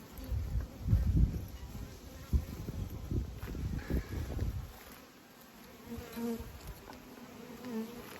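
Honey bees buzz steadily near the microphone at a hive, with louder low rumbling handling noise in the first half before a calmer, continuous drone.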